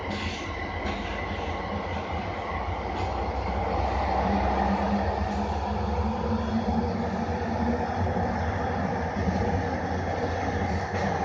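A SkyTrain Evergreen Line car running on brand-new tracks toward Coquitlam Centre Station, a steady loud rumble of wheels and motor heard from inside the nearly empty train, with faint clicks and no talking.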